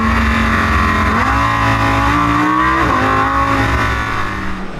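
An Audi R8 V10 Plus engine, tuned to 449 kW, revs hard with a deep, loud, rising howl that climbs in pitch, briefly dips, then surges again, heard close from inside the car.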